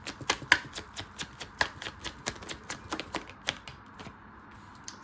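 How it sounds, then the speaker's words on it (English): Tarot cards being shuffled by hand, a quick uneven run of sharp riffling clicks and slaps, close and fairly quiet, tapering off near the end. "Whoa, that was not a great shuffle."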